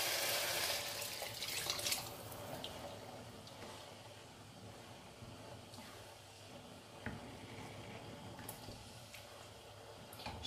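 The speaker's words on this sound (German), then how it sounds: "Gebe ich noch die Gemüsebrühe hinzu" Vegetable broth pouring into a hot pan of vegan vegetable rice stir-fry, a steady watery splash and sizzle up close, fading to a quieter simmer with a few faint clicks, no talking.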